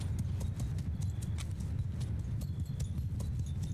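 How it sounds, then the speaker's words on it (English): Horse hooves clip-clop at a galloping pace in a Mount & Blade II: Bannerlord battle, a steady, dense patter of many hoofbeats that continues throughout over a low rumbling background, with faint sharper clicks scattered on top. "Seeing the horses come up."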